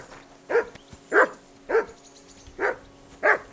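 A dog in the medieval game Kingdom Come: Deliverance 2 barking five times at an even, steady pace, each sharp bark close and distinct against a quiet background.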